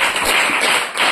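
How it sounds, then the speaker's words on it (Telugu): An audience at a church gathering claps hands hard and fast, a dense, loud burst of many overlapping claps close by, dipping briefly before surging again. "కొట్టు చప్పట్లు ఇంకా గట్టిగా"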